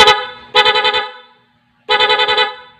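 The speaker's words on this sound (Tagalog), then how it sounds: "So bali stock horn, loud horn, nakasabay yung stock horn." Loud car horns blare in two bursts of rapid pulsing honks, a stock horn and a louder aftermarket horn sounding together through an interrupter relay, separated by a short silence.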